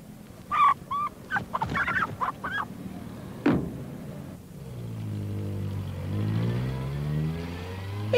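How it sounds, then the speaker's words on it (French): A hen clucks in short, sharp bursts on a city-centre street, then a car engine rises and revs nearby, swelling and drowning out the bird. "Il y a une poule dans la rue, ici, dans le centre de la ville."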